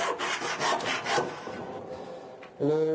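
Several rasping handsaw strokes through wood, which trail off and go quiet. A short tonal sound follows at the end.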